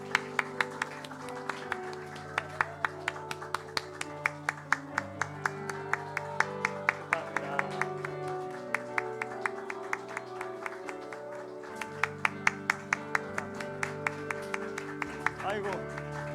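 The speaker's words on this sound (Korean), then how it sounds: "박수." A congregation claps at a church deaconess installation ceremony. The applause is sustained and crisp for about sixteen seconds, with a continuous tonal background underneath.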